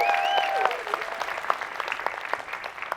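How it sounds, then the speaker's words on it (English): A conference audience applauds and cheers, a dense close clatter of clapping that starts strong and thins slightly over a few seconds, with a voice briefly audible at the start. "You can cheer for yourselves"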